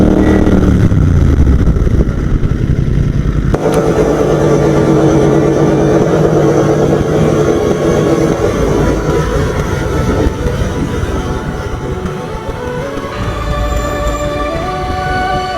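A Royal Enfield GT650 motorcycle with a modified exhaust rumbles loudly on a busy college road, its deep engine note rising through revs and shifting pitch, with traffic noise around it.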